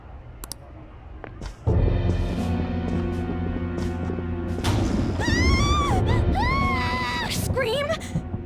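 A scream rings out during a Persona 5 Royal game scene, amid thuds, crashes and tense background music, with strained vocal cries rising and falling near the end.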